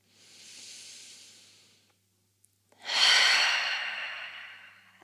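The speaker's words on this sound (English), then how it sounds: "Take that final breath in." During a yin yoga pose with the legs up a wall, a person takes one slow, deep breath in, pauses briefly, then lets out a louder, longer breath. Both breaths are close and there is no talking.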